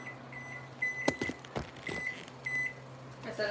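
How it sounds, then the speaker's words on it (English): Several short, thin beeps come from a kitchen timer, sounding in little clusters among clunks and kitchen handling noise. "I set a timer."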